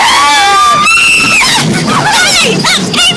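Several people screaming and shrieking on a ghost train ride, loud, close and continuous, with high overlapping wails and yelps.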